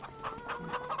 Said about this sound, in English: we're just going to double check on the chickens here